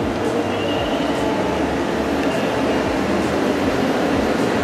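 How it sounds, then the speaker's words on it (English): Disney World monorail passing at a resort, a steady loud rumbling roar with rail noise and faint rhythmic clacking, continuous throughout. "There's the monorail."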